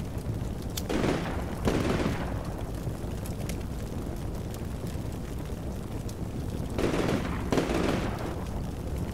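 Gunfire in the tactical war game Combat Mission Shock Force 2, with two clusters of distant, muffled bursts separated by a stretch of low rumbling ambience.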